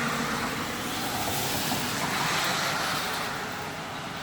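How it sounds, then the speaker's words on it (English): Cars pass by on a road in the early morning during rainy weather, a steady loud rush of tire and engine noise that swells slightly and stays constant throughout, with no talking. "as you could hear, it's real noisy, like when the cars come by"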